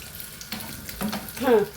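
Eggs frying in a pan of oil for an egg masala curry, a soft sizzle broken by scraping and flipping noises, brief and close.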